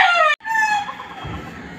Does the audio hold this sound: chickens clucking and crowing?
yes